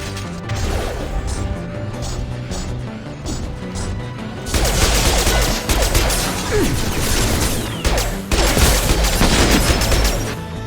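Dense video game gunfire rattles almost nonstop in a loud firefight, and the shots grow heavier and more crashing partway through, with bursts and impacts overlapping throughout.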